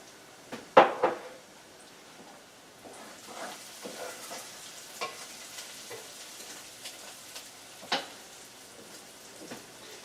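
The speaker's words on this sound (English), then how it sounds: "you're going to start sauteing the onion in a little olive oil" Onion sauteing in a little olive oil in a pan on the stove, with a soft sizzle and a few sharp stirring clatters and scrapes, the loudest near the start, heard close with no talking.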